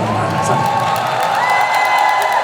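A crowd at an outdoor ginseng festival concert in Geumsan cheers and claps under a steady, loud wash of voices with whoops, continuous and close throughout.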